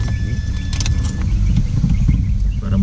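A car with a manual clutch starts up and runs as a loud, steady low rumble close by, with a brief jangle of keys near the beginning and no talking.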